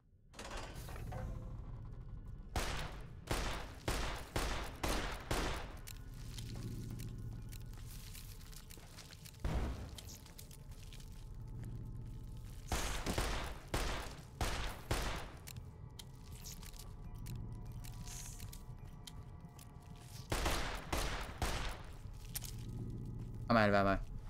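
Gunfire from weapons in the video game Fallout: New Vegas, set in an abandoned drinks factory, comes in repeated rapid bursts of sharp shots separated by quieter stretches, over a steady background hum.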